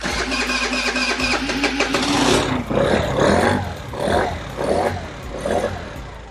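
Big-bore carbureted engine cranking and catching, then running loud and close with a rough, lumpy idle that rises and falls in several revving surges.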